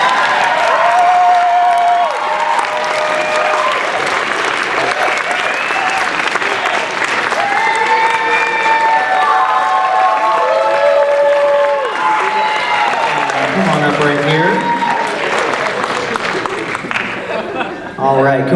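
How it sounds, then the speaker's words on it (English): An audience at a cosplay contest gives loud, sustained applause with scattered cheers for the Best in Show winner, while a host speaks over the clapping. "If you keep clapping, it's less awkward."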